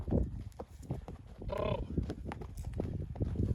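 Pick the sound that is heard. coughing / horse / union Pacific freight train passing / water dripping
horse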